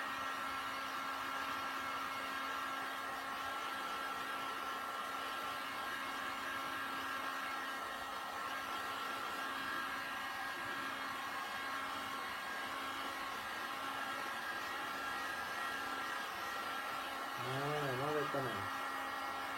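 Heat gun blowing hot air onto plastic being softened for a DIY upper-limb prosthetic socket, a steady whirring hiss that runs unbroken at moderate level, while someone speaks briefly in French near the end.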